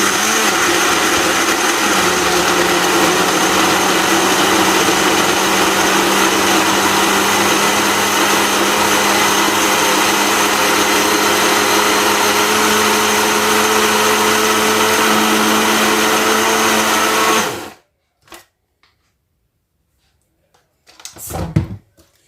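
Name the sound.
blender blending a milk smoothie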